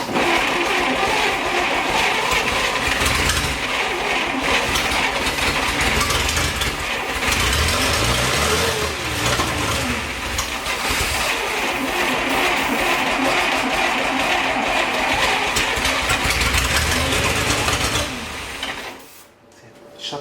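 A barn-find 1941 Plymouth engine running for the first time in 50 years, a loud, rough, rapid mechanical chatter and clatter held steady for most of the span before cutting out abruptly near the end.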